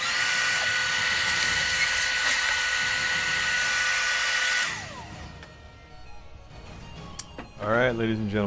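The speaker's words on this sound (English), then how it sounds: "it is now router time." A router cutting and shaping a wooden beer mug prototype, a loud, sustained high-pitched whine for several seconds that stops and winds down, followed by quieter handling noises and someone speaking at the end.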